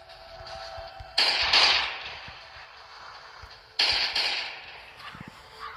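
Two gunshots in the mobile survival game Last Day on Earth, each a sharp loud crack with a short decaying tail, spaced a few seconds apart over a faint background.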